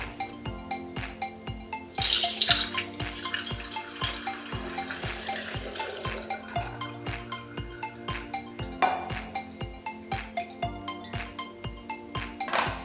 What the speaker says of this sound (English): So right now I'm going to sieve it into this my clean jar.